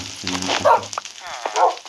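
A dog barks in the video game Minecraft during a fight with a creeper: two brief, close yips amid game sounds and a low sizzling hiss.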